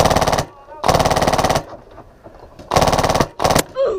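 Airsoft gun firing rapid full-auto bursts outdoors during a game on a field with berms, two long loud bursts separated by a quieter gap with distant shots and voices.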